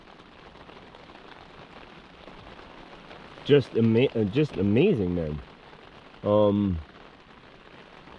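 Rain falling outdoors, a soft steady hiss of drops in the background while someone speaks briefly partway through.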